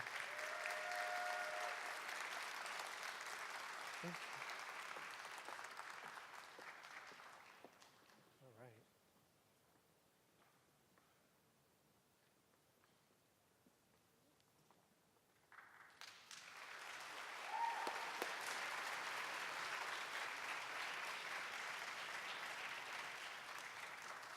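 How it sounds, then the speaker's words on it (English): An audience at an Asian Pacific American heritage celebration claps in two bursts, loud at the start, fading to a quiet lull in the middle with faint voices, then swelling again toward the end. "Let's give them another round of applause."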